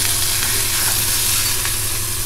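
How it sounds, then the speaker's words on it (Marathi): Onion and chili sauté in a pan with a loud, steady sizzle that runs throughout, plus faint stirring scrapes and no speech. "आता मिरची घालते आणि कांदा चांगला जरा परतून घेऊया"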